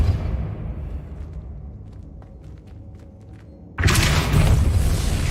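A Depulso spell cast in the Hogwarts Legacy video game bursts in suddenly as a loud, broad whoosh-boom, replacing a quiet, low ambient bed and sustaining to the end.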